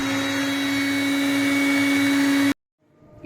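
A kitchen mixer grinder whirs loudly and steadily while blending grated fresh coconut in its jar to make coconut milk. The motor runs evenly, then cuts off abruptly, leaving faint room noise.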